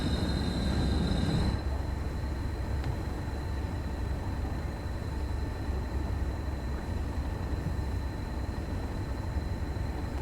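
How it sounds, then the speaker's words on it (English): A train in Train Sim World 2 runs on the West Cornwall local line with its brakes on, making a steady rolling rumble with a faint high whine over it, continuous and close. "It does sound like the brakes are on."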